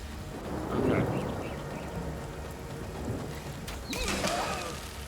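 Steady rain pours in the fantasy role-playing game Divinity: Original Sin, a constant close wash of falling water with low rumbles and a brief swell near the end.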